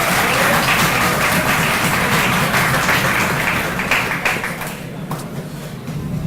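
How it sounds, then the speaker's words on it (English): Loud, dense audience applause welcoming a speaker at a university entrepreneurship summit closing ceremony, sustained clapping from a large crowd that gradually thins out toward the end. "Please welcome him with a huge round of applause."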